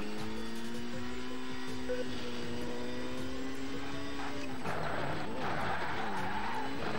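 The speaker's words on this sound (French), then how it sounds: "J'aime bien le bruit de la motorisation de la bagnole." A racing car engine in a racing video game revs steadily with rising and falling pitch, shifting gears, then skids and squeals toward the end, loud and continuous.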